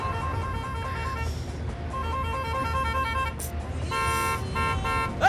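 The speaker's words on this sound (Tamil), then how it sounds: "எதுக்கு இப்படி ஹார்ன் அடிக்கிறான்?" A car horn honks repeatedly in road traffic, sustained blasts with brief gaps, loud and close over a rumbling engine and street noise.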